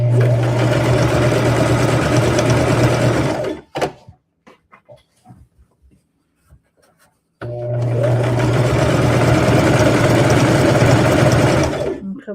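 A sewing machine stitches down the side of a rag quilt in two long, loud, steady runs split by a few seconds of quiet handling clicks.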